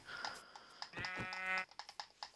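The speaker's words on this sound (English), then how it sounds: "There's sheep." Minecraft sheep bleating in-game, a pair of wavering tonal bleats in the middle of the clip, with soft clicks and game sounds before and after.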